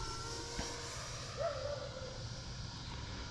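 An E-Flite Viper 90mm electric ducted-fan RC jet flies overhead at sunset, giving a steady, even whooshing roar throughout with a brief faint whistle partway through.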